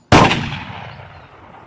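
A shotgun fires once at a clay target in the Clay Hunt VR video game, giving a single loud, close blast with a long fading echo and no talking.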